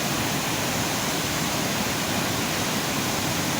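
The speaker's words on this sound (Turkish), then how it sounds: "Karşımızda Canikdere Şelalesi." Canikdere waterfall near Tonya, Trabzon, a continuous dense rushing roar of falling water, loud and unbroken throughout, with no voices over it.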